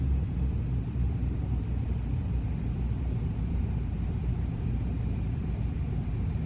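Twin piston engines of a PA31 in a flight simulator, idling at 1000 RPM as an even, low rumbling drone, steady and continuous with no talk.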